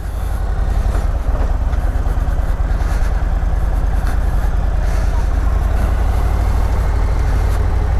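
Harley-Davidson Road Glide ST motorcycle pulling away in first gear, a loud, steady low engine rumble filling the whole stretch, close up and constant.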